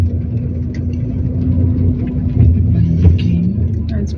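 A car in a driving lesson slowly reverses into a parallel parking space, its low engine rumble steady and close under an instructor's voice.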